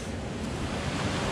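River water rushes through the narrow rock channel of the Strid, a dense, steady roar of churning water heard close and continuous with no voices.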